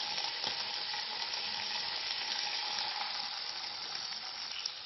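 Chicken giblets fry in hot oil with a steady, dense sizzle that holds at an even level throughout, close and continuous with no talking.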